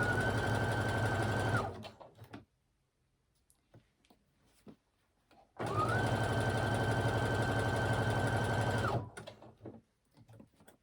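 A sewing machine zigzag stitching a trouser cuff runs in two close, loud bursts of steady whirring, a few seconds each, separated by a quiet pause filled with light handling clicks.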